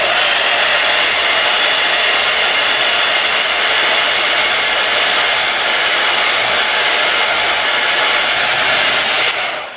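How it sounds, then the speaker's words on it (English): A hair dryer blows steadily to dry paint on a painted picture of creepy trees, a loud continuous roar holding for nearly ten seconds without pause and no talking. "So let's blow dry it."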